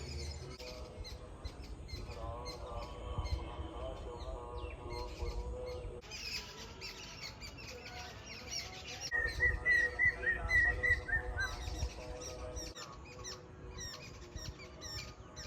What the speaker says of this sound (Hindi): यहाँ पे भी ना सेम वही पक्षियों की आवाज़ें आ रही है।